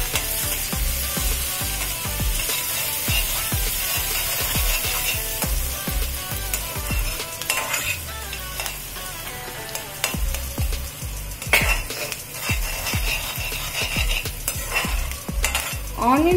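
Chopped onions and green chillies frying lightly in a pan, a close, steady sizzle broken by frequent scraping and tapping of a metal spatula against the pan in a busy, irregular rhythm.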